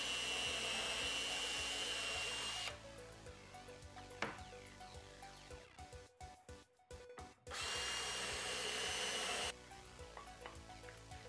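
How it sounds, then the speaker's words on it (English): A power drill bores pocket holes through boards set in a Kreg Jig while building an end table. It whines loudly and steadily, eases off, stutters through short stops and starts, then revs up again. "Then I could just proceed to drill the pocket holes in the top."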